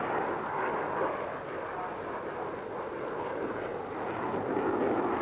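A Russian multi-role fighter jet, carrying a full weapons load, flies a display at the 1994 International Air Tattoo air show, a steady loud roaring engine rumble with broad hiss that holds evenly throughout.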